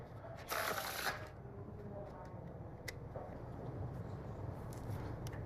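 Playing cards are shuffled face up into face down, a brief loud riffling flutter near the start, followed by quieter card handling and soft room noise.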